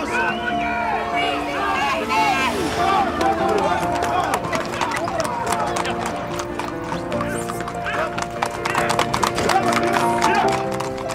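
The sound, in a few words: horse trotting down road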